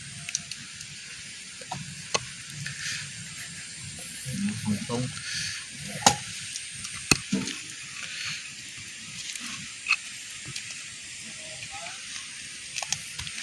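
Spices hit a hot pan and sizzle with a soft, steady hiss, broken by scattered crackles and light clatters, while people talk quietly nearby.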